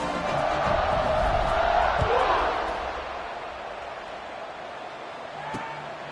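A football stadium crowd at a Georgia Tech versus Notre Dame game cheers loudly after a touchdown drive and extra point, a broad roar that swells with whoops, then fades to a lower murmur as the kickoff unit lines up.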